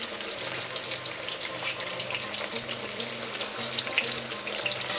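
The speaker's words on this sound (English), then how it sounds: "fry the eggplant in vegetable oil in a large pan or any size you have until the" Eggplant slices fry in vegetable oil in a large pan, giving a constant close sizzle and crackle with small pops, alongside a low, steady hum.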